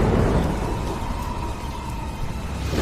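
Thunderstorm with heavy rain pouring over farm fields, a loud, continuous deep rumble and dense hiss of rain lasting throughout.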